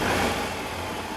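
A 2013 Jaguar XJ 3.0 supercharged V6 engine hums in a short, moderately quiet burst, a smooth steady note with no voices.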